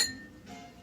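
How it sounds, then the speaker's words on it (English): Ice cubes clinking into a drinking glass before soda water is added, a bright sharp clink right at the start followed by a short fading rattle. "glass like this with ice and like this much soda water"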